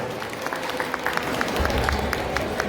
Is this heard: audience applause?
yes